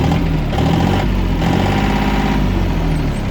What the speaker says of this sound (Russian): То есть двигатель запускается и работает супер мягко.